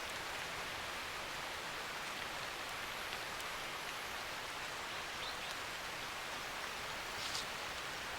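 Steady rain falls through an Asian forest, a dense, even hiss of drops on leaves that holds without pause from start to end, with a few faint patters standing out now and then.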